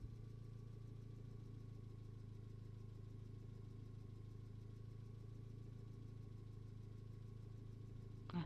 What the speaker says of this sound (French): il y a un petit quad